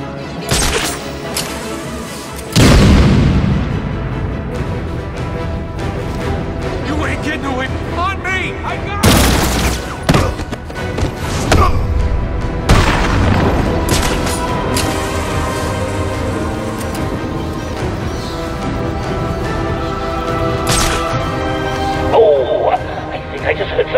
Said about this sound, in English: Grenade!